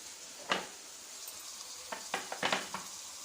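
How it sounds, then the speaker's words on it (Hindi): Chicken with capsicum and roasted garam masala stirred in a pan, a few soft scraping clacks over a faint, steady sizzle, quiet and close. "हाफ टी स्पून डालें और इसको मिक्स करते हैं"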